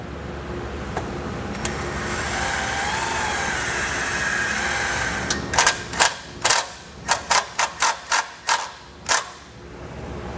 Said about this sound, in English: I'm just going to secure the ring terminal using a self-tapping screw